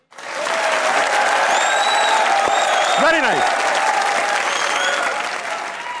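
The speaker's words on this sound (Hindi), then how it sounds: "तो तालियां हो जाइए।" A studio audience at a Pakistani comedy talk show breaks into loud, dense, sustained applause that holds steady throughout, while someone speaks briefly over it.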